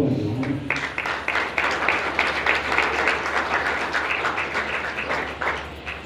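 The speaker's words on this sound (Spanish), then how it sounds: "Un aplauso para Johanna." Audience applause at a gathering in an art museum, a dense crowd clapping steadily and fairly loudly for several seconds, with faint voices underneath.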